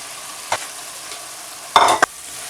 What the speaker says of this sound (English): What we're going to do, we're going to add keema in there.